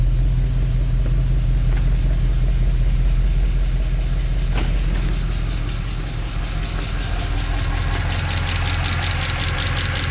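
A 2011 Mercedes E63 with 130k km idles steadily while warming up after maintenance, a loud, close, continuous rumble with a deep low drone and faint ticking on top, with no voices.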